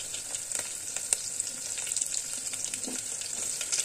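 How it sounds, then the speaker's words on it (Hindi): Peeled, chopped and washed potatoes fry in oil over a medium flame, giving a steady bright sizzle with scattered crackles and pops, fairly close and moderately quiet, and no voices. "आलू को हम गोल्डन ब्राउन होने तक भून लेंगे।"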